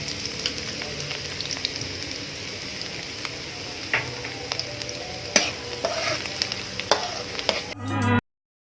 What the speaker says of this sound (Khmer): ឥឡូវយើងដាក់ខ្ទឹមពងចូលហើយ